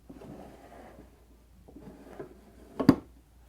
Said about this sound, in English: The drawers used to be a piston fit and they're still not too bad.